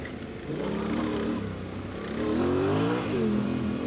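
A Honda XR650L motorcycle accelerates off road, its single-cylinder engine note rising and revving through a gear, heard fairly close with a steady mid-range drone and a surge in the second half.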